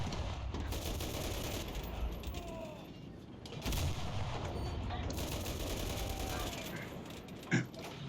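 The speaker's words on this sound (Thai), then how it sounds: "ยิงจนเหนื่อยแล้วผมอะ" Gunfire in the video game Enlisted, with rapid continuous shooting and crackling bursts across the whole stretch and a sharper single shot near the end, with someone talking over it.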